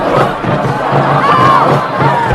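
A large crowd roars and cheers at a Maya pyramid sacrifice ritual in Apocalypto, a loud, dense mass of shouting voices sustained without a break.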